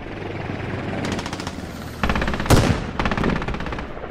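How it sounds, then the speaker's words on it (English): Bursts of automatic gunfire and rocket-propelled grenades are fired at a helicopter in the military shooter game Squad, with rapid rattling volleys and a sharp loud blast midway, all close and intense. "RPGs being fired at the helicopter now."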